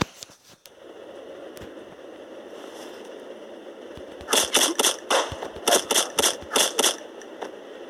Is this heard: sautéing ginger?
no